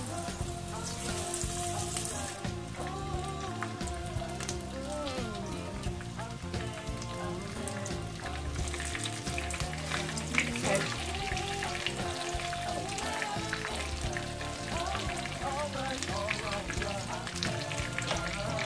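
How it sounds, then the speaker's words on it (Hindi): Chicken pieces deep frying one by one in hot oil for sweet and sour crunchy chicken, a dense, continuous crackling sizzle that sounds like heavy rain and holds steady throughout. "अब इसे हम डीप फ्राई करेंगे"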